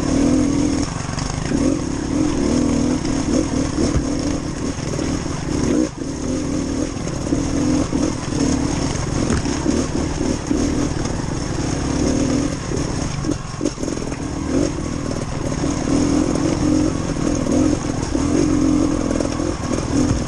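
Small trials motorcycles ride a green lane trail in Wales, their engines buzzing loudly and continuously up close, revving and easing as they climb over rough ground.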